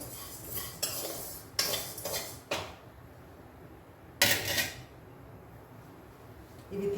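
Flaxseeds dry-roasting in a pan, stirred in several short bursts of scraping and rattling against metal separated by quieter pauses, fairly close.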